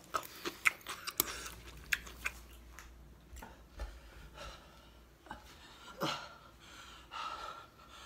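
Close, wet chewing and slurping of ramen noodles, with irregular bites and sharp breaths scattered across the clip and no talking.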